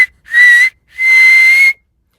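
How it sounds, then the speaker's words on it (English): Two loud, piercing whistles, a short blast then a longer sustained one, steady high pitch with a brief pause between them. "this last whistle is the really loud whistle"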